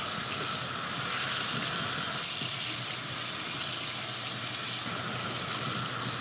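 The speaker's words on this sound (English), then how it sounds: "The strainer is perfect for this. Letting the water pass right through them." Water drains through a kitchen strainer over blanched stir-fry vegetables, a steady close hiss and trickle that runs without pause.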